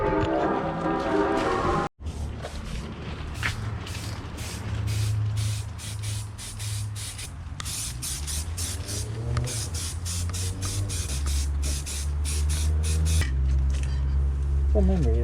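Repeated hissing bursts of an aerosol spray paint can, short and close, interrupted by brief pauses, with some low background hum and mechanical noise.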